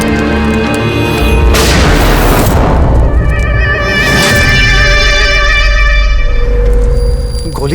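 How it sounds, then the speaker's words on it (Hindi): A loud booming gunshot blast cuts through a sustained droning musical backdrop in a TV crime drama, with a second heavy boom a couple of seconds later. "गोली चलने की आवाज थी"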